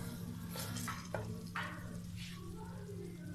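Chipotle and ancho chile sauce goes into chorizo in a pan, giving a soft sizzle with a few quick stirring scrapes and light clinks, close and fairly quiet over a steady hum.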